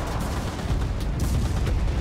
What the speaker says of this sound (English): Oh, it's a tank. Yeah, it's a tank shot.